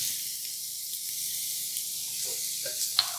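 Flour stirred into melted butter for a roux in a pan, a low steady hiss and sizzle heard up close, with a few faint clinks and scrapes near the end.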